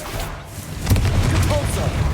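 A Confringo fire spell blasting in a Hogwarts video game: a sudden, booming burst that swells into a rumbling, crackling roar and carries on to the end.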